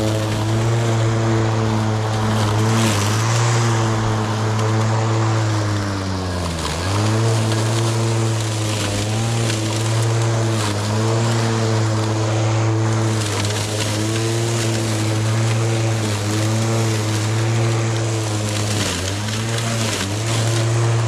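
A battery-powered electric lawn mower runs steadily and loud up close, a constant whirring drone with a slight dip in pitch partway through, with no talking.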